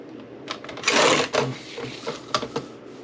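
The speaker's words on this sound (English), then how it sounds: "This is a Carl rotary trimmer." A Carl rotary trimmer slices through a sublimation print in a few quick scraping strokes with small clicks of the blade carriage, close and fairly quiet.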